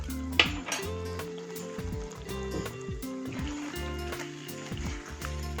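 Chicken masala being stirred and fried in a pan, with a quiet sizzle under clinking and scraping of a utensil against the pan and a few low tonal rattles, close and fairly soft.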